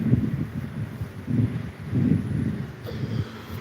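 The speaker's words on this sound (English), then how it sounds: "It's too windy for this." Gusty wind buffets the microphone in low rumbling bursts, rising and falling several times, with no voices.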